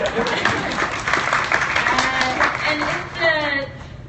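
Audience clapping at a school staff gathering rises and falls across the moment, with a voice talking over it.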